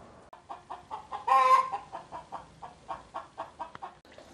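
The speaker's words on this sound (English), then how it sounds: "bird is pissed." A backyard pet chicken clucks in a rapid, rhythmic series of short clucks close by, broken by one louder, drawn-out squawk, in a quiet outdoor setting.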